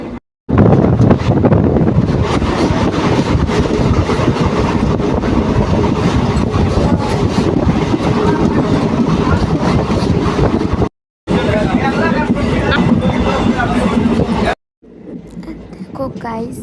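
Loud, steady rumble and rush of a moving train heard from on board, with wind buffeting throughout. Two brief silent breaks interrupt it, and the sound resumes quieter near the end.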